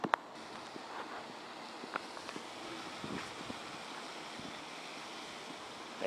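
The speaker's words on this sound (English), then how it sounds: "The fountain's on." An outdoor water fountain runs on a cold evening outside a restaurant, giving a steady, fairly faint wash of splashing water with no one talking.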